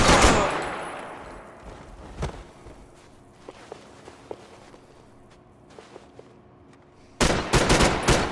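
A loud burst of gunfire in the video game Max Payne 3 opens, then scattered faint clicks and taps in near silence, and a rapid volley of shots erupts again near the end.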